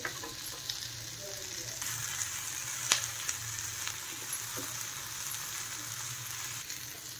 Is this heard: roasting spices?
yes